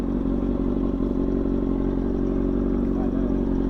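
Yamaha R7 and 636 sport motorcycles riding to a car meet, a steady loud engine drone with constant low rumble and wind, heard close from on the bike.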